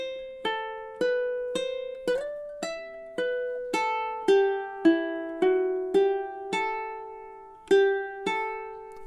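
A stanza of God Rest Ye Merry Gentlemen is picked in campanella style on a stringed instrument. About a dozen bright plucked notes sound at a steady pulse, overlapping as they sustain, played alone without any voices.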